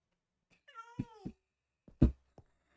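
A cat in a blocky video game gives a short, clear meow followed by a few brief chirpy cat sounds, close and fairly loud, with nothing else around.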